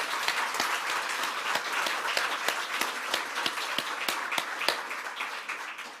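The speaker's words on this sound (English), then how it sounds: "Big round of applause for Amy Maguire" An audience at a literary prize shortlist announcement applauds, with steady, dense clapping from many hands that holds for several seconds at a lively, even level.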